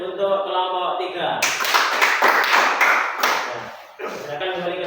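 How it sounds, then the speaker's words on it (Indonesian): Classroom applause for group 3 during a teaching performance session: a voice speaks briefly, then a burst of clapping rises and fills the middle seconds before easing back under talk. "Tepuk tangan untuk kelompok 3"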